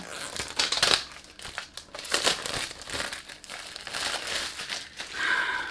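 Sealed cardboard packaging around a makeup eyeshadow palette is cut and pulled open with scissors, giving close, soft crinkling and scratchy tearing in uneven bursts, quiet and with no talking.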